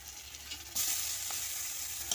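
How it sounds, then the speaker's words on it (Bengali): Spice masala with tomato, green and dried red chillies fries in a pan while being stirred, a steady close sizzle that jumps louder partway through, with scraping stir strokes and no talk. "ভালো করে কষিয়ে নেব মশলাটা যাতে পুড়ে না যায়"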